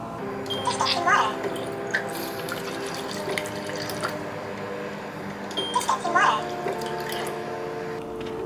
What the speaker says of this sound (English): we need to add warm water.